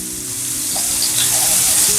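Fish shallow frying in a pan gives off a steady, loud sizzle and crackle that builds slightly over two seconds, with faint scraping as pieces are turned.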